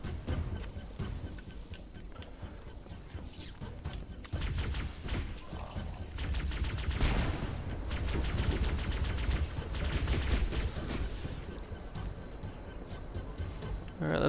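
Plasma rifle fire in the Halo CE video game: dense, rapid bursts of shots crackle over a busy battle soundscape, peaking in a sustained volley midway through.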